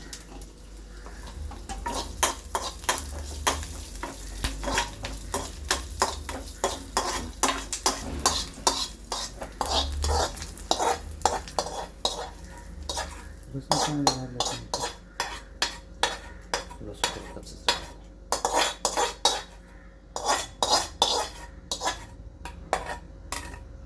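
Curry leaves and garlic roast in a pan for a chutney, with a steady run of sharp spatula scrapes and clinks against the metal over a low crackle, loud and close, with no talk.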